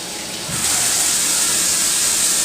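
Kitchen sink sprayer running water into a clogged sink drain, a steady broadband rush that swells louder after a brief softer start and then holds continuously to the end, close and alone.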